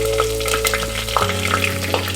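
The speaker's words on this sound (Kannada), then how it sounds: "ಈಗ ಸಿಡಿಲಿಕ್ಕೆ ಸ್ಟಾರ್ಟ್ ಆಯಿತು. ನಾನು ಕರಿಬೇವು ಹಾಕ್ತಾಯಿದ್ದೀನಿ." Mustard seeds, spices and curry leaves spluttering in hot oil for khara pongal, a loud, close sizzle with sharp crackling pops, a deeper frying rumble settling after the leaves go in, no voices.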